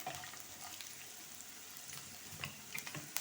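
Onion fries in a pan for dahi upma, giving a soft, steady sizzle with light stirring scrapes, quiet and close, with no voices.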